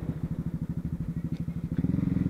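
A Honda CB Twister motorcycle engine runs close by with a rapid, regular pulsing thump, a steady chugging beat that picks up slightly in pace near the end.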